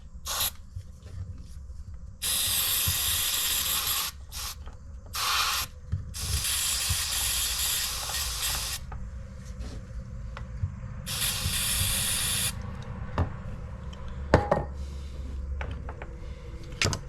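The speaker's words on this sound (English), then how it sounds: "Let's see if I can get some cleaner down in it." Aerosol cleaner sprayed into the left handlebar switch of a Yamaha DT175B motorcycle, controlling headlight, horn and turn signals: several loud hissing bursts of a few seconds each, close up, separated by quieter gaps with small clicks and handling noise.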